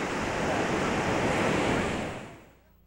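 Surf and wind at a New Jersey beach in 1988, a broad, loud rush of breaking waves with wind buffeting the microphone, fading away near the end.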